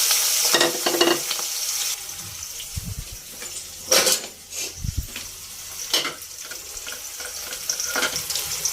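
Tempering seeds sizzle in hot oil in a pot while being stirred, with bursts of spluttering and scraping knocks at irregular intervals between quieter stretches of crackle.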